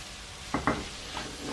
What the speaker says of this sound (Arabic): نخليهم حتى هما يتقلاو حتى يطيبوا معهم شويه